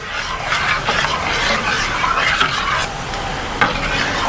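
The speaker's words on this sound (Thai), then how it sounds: "คนจนกว่าจะไม่มีกลิ่นน้ำส้ม" A pot of dipping sauce with a little vinegar stirred while it boils, a steady bubbling, sizzling wash close up with occasional scraping strokes, no talking.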